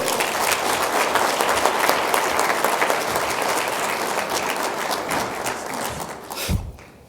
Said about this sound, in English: This round of applause. Come on, Colorado, let's hear it.